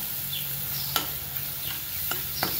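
Garlic and coconut roast in a pan with a soft, low sizzle, broken by a few sharp scrapes and taps of a spatula at irregular intervals.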